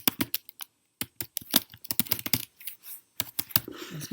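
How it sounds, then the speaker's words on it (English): Rapid bursts of typing on a computer keyboard while an email address is entered, the key clicks coming in quick clusters with short pauses between them, close and fairly clear. "So now I'm going to type in my email address that I actually created so I could do this."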